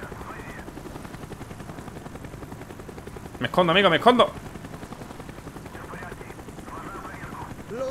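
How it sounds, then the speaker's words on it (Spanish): Helicopter in the video game Call of Duty Black Ops, a steady rotor thrum running under voices throughout, with a brief loud rattling burst in the middle. "Evite el foco del helicóptero."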